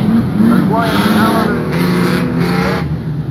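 Race car engine roaring at a dirt speedway, a loud sustained drone with rising and falling pitch as the car passes, under a commentator's voice.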